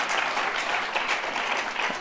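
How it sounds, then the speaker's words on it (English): Audience applause at an anniversary gathering of a Vedic study centre, a dense wash of clapping held at an even level throughout. "You can give a big round of applause for all of us."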